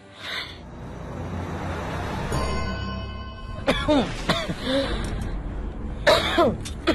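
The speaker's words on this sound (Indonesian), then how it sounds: "Makin parah sih batuknya." Someone nearby coughs in a few harsh, separate bursts with throat clearing between them, against a quiet room background.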